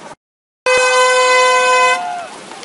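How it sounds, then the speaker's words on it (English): One loud, blaring air horn blast starts a triathlon race at Lanikai, sounding close by after a brief silence, holding steady for over a second before cutting off, leaving crowd murmur behind. "They got the air horn. They're starting."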